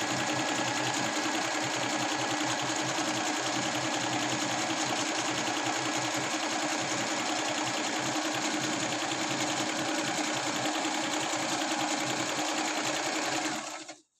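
A Singer sewing machine runs steadily while stitching a decorative design on fabric, a continuous loud mechanical whir that goes on for about fourteen seconds and then stops abruptly.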